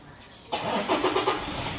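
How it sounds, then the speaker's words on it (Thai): A 2019 Toyota Revo 2.8G four-door 4x4 pickup is push-button started; after a quiet moment the diesel engine catches abruptly and settles into a steady, close idle. "เดี๋ยวลองสตาร์ทเครื่องให้ดูนะครับ เหยียบเบรกนะครับกดปุ่มพุทสตาร์ท"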